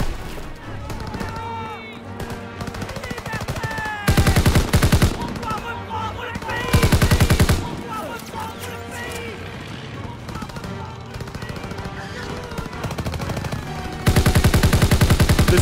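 Automatic rifle fire in the World War II shooter Call of Duty WW2: loud, rapid full-auto bursts at about 4, 6.5 and 14 seconds, between stretches of battle ambience and distant gunfire.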